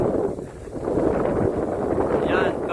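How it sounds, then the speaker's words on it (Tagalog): Strong wind buffets the microphone aboard a small boat, a loud, rough, continuous rushing roar with gusty swells, and a voice speaks briefly over it. "Lakas ng hangin."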